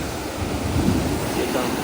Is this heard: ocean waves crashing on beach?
yes